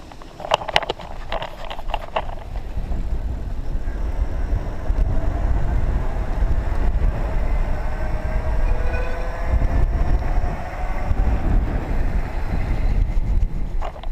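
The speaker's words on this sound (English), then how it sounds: "So let's switch over and use the throttle, because that's kind of what this bike is all about." A ProdecoTech Phantom X2 electric bike rides under throttle, with a steady rumble of tires and wind noise close up, a faint rising motor whine and no talk.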